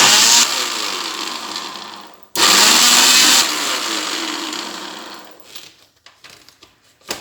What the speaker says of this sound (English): just lock your food processor and give it a